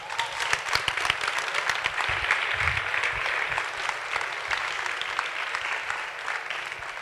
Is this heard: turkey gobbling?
no